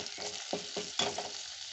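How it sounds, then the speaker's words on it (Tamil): Tomatoes sautéing in a pan for a bitter melon tamarind gravy, a quiet close sizzle with several short scraping stirs in quick succession. "தக்காளி நல்லா வதங்கட்டும்"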